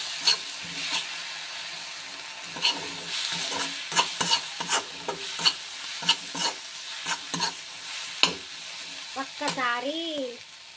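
Tomato sauce sizzles in a hot pan for crispy chilli idli while a spatula stirs and taps in quick irregular strokes, close and clear, with a brief voice near the end.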